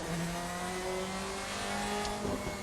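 Mercedes 2005 DTM race car without ABS or traction control on the Nordschleife, its engine droning and revving loudly and steadily under throttle, with a brief tire squeal near the end and no talk.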